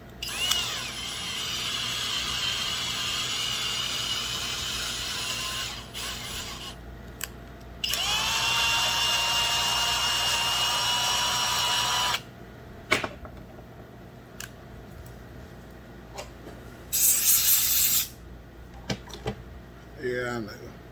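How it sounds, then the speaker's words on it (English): A power drill running in low gear whirs in several sustained bursts, two long runs and a short one, with clicks and knocks in the pauses between. "I'll put the drill in low gear."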